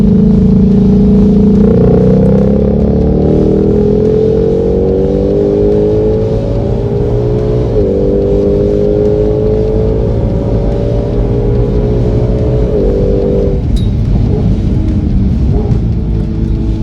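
A 2020 Shelby GT500 with a broken suspension accelerates hard on a road, the loud engine note climbing steadily through several gear changes, close up and continuous without talk.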